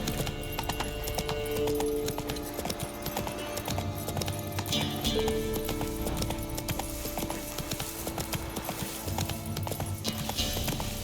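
Roach the horse from The Witcher 3 gallops with rapid, steady hoofbeats close by, plus a brief whinny and faint game ambience, with no voices over the footfalls.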